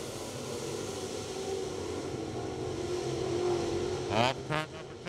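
Sportsman late model race cars accelerating away from the start at Magnolia Speedway at night, their engines a steady distant roar rising in pitch, with two sharper passes near the end.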